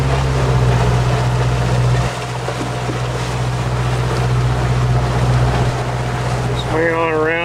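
Motorboat on a Great Loop cruise, its engine chugging in a steady low drone while moving along an inlet between bridges, with water and wind noise, a shift in engine tone midway and a voice talking near the end.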